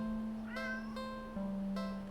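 A cat in a video game meows, two drawn-out, clear tonal cries heard close and alone over a faint steady hum.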